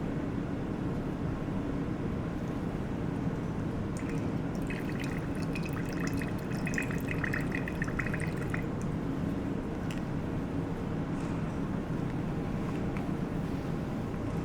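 Deionized water drips through a chromatography cartridge into a waste container in a lab, a steady fine trickle with a run of quick light drips over a constant background hum.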